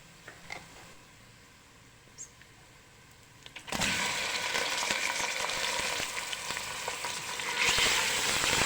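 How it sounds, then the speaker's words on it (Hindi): Mutton pieces dropped into golden fried onions in a pot, setting off a loud, steady sizzle and frying hiss that jumps up suddenly and continues without a break. "तो अब हम इसमें डाल देते हैं गोश्त।"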